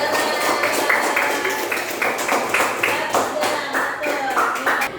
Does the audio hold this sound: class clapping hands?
yes